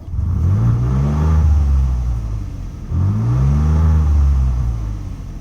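Ford F150 twin turbo with an eBay exhaust and its cutoff valve closed, heard from inside the cabin as two rising revs, each swelling to a deep droning roar then easing back, loud and muffled.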